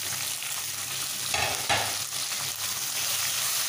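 Five chopped ripe tomatoes fry with green chillies in a pan for a fish curry, giving a constant hiss with a couple of stirring scrapes in the middle and no voices.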